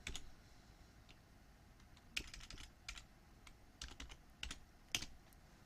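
Keys clatter on a computer keyboard in a quiet room. The typing is soft and sparse, in short irregular bursts of clicks with small pauses between them, and no one talks.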